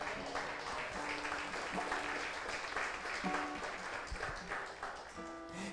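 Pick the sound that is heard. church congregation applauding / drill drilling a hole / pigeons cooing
church congregation applauding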